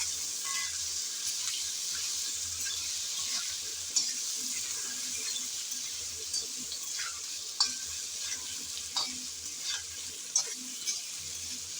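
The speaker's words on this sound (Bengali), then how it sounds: "কুমড়াগুলো দিয়ে নেড়ে চেড়ে ভালোভাবে একটু হালকা করে ভেজে নেব।" Pumpkin pieces fry and hiss in a pan as a spatula stirs them, a constant soft sizzle broken by sharp scraping clacks every second or two, close up and quiet, with no voices.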